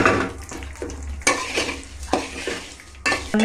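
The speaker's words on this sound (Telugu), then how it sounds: "సైడ్ కాస్త పల్లీలు వేసుకొని అందులో కాస్తంత ఆయిల్ కూడా వేసుకొని వేయించుకోవాలి." Peanuts frying in a little oil in a pan, with repeated sharp metal scrapes and clatters of stirring over a crackling sizzle, close and fairly loud.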